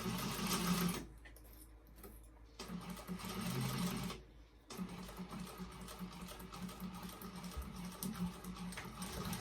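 A sewing machine stitches a zipper onto a curved side panel of a vintage expandable tote bag with an eighth-inch seam allowance, running in fast steady bursts broken by brief pauses, close and clear.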